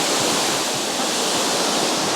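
A waterfall pours steadily beyond a rocky foreground, giving a loud, unbroken broadband roar of rushing water with no voices.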